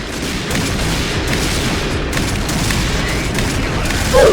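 Rapid bursts of gunfire from the online shooter game Point Blank sound in a dense, steady volley across the whole stretch, loud and close, with a sharper shot near the end.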